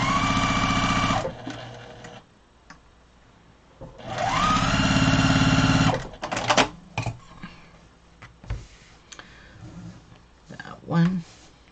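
A sewing machine stitches tote bag fabric in two fast, buzzing bursts with a pause between, close by, followed by clicks, handling noises and someone talking.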